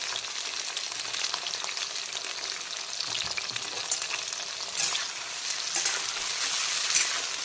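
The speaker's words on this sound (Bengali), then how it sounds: "এগুলোকে আমি একটু ভাজা ভাজা করে নেব, মানে কাঁচা গন্ধ চলে যাওয়া পর্যন্ত ভাজা ভাজা করে নেব।" Ginger, garlic, dried chillies and tomato frying in a pan over a full flame, a steady close sizzle with brief stirring scrapes and rising crackle, no voices.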